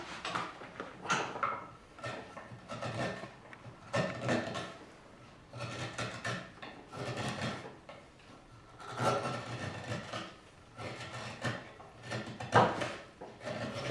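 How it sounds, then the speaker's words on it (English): Skew chisel cutting and paring the wooden heel of a guitar neck: repeated scraping, rubbing strokes in irregular bursts, fairly quiet and close, with no speech. "now with using the skew chisel, I work from, I'm chiseling this side here from this side"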